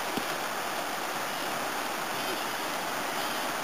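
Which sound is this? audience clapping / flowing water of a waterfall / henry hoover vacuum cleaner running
flowing water of a waterfall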